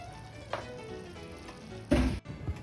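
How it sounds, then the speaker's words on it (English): Mexican mole sauce simmering and sizzling in a pot over heat, a faint continuous bubbling with a brief loud clatter of stirring or utensil contact near the end. "We're going to let our sauce cook down for about 3 minutes or so, and then we're going to mix on low heat."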